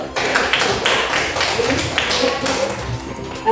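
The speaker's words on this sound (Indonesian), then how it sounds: "Oke, tepuk tangan dulu." A class of schoolchildren clapping their hands together in a classroom, dense and fairly loud with a roughly steady rhythm, voices mixed in.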